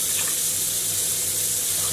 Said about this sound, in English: we are going to add more water